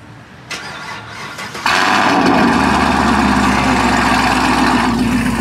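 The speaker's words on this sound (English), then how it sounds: "I'm gonna get a quick cold start." A Ram TRX truck running E85 fuel cold-starts with a brief starter crank, then the engine roars to life and settles into a loud, steady high idle that fills the rest of the recording close by.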